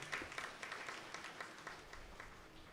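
A church congregation claps hands together during a feast-day celebration honouring grandparents and the elderly, a faint, steady patter of many hands heard from a distance.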